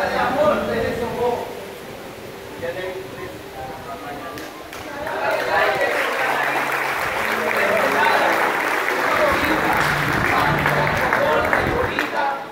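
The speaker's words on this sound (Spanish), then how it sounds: "Fuerte aplauso para nuestros poetas." Audience applause for poets at a Spanish-language poetry and dance event, a steady broadband wash of clapping from a crowd that swells louder midway and holds, with voices and chatter mixed in.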